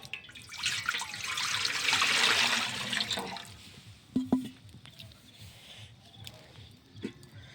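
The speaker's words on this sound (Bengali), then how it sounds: "আমি ভাতের পানি দিব, যে সসপ্যানটা চাপিয়ে দিলাম" Water poured from above into a saucepan for cooking rice, a steady broad rush for about three seconds that fades into a few light clinks and splashes.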